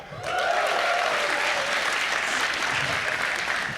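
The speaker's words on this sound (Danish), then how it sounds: "Prøv lige at klap" A comedy show audience in Denmark claps loudly and steadily, a full room of applause rising quickly and holding throughout.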